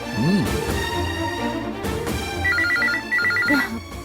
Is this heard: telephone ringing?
yes